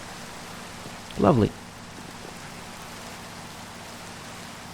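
Steady Minecraft rain forms a soft, even hiss throughout, with a brief spoken word early on.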